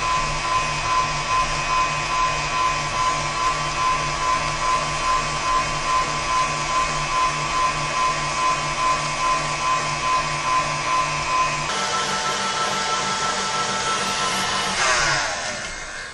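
A stand mixer beats cake batter with oil, running at a steady loud motor whine with a rhythmic pulsing hum, then powering down and winding off near the end.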